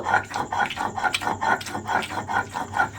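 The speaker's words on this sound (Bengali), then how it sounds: "এইভাবে কিন্তু এবারে খুব ভালোভাবে সুন্দর করে বেটে নেব।" Ridge gourd being ground into a paste, probably on a grinding stone: rhythmic back-and-forth scraping strokes, about three per second, close and fairly loud, with no talking over them.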